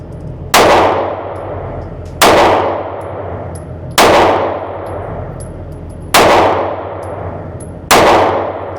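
Five loud, sharp shots from a Kimber CDS9 compact 9mm pistol crack out at roughly two-second intervals, each followed by a ringing decay at an outdoor range, with no talking.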